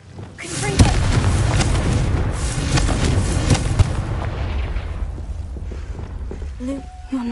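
A Confringo explosion spell in a Harry Potter video game goes off as a loud, sudden blast, followed by several seconds of dense, crackling rumble that thins out toward the end.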